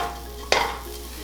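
Crispy Thai mee krob noodles tossed in a pan for a final mix, a single quick rustling, crackling stir against a quiet, faintly sizzling background.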